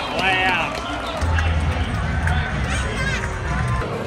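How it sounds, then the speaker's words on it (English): Loud crowd noise fills an NRL rugby league stadium during a Dragons versus Bulldogs match, a dense steady roar of many voices with cheering swells, sustained throughout at close range. "The crowd is loud."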